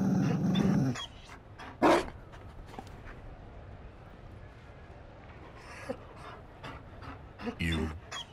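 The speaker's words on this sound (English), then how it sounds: "You found a dog?" Mabari war dog in Dragon Age Inquisition panting and growling in short bursts, with a raspy breath early and a couple of rough growls later, set against quiet ambience and occasional voices.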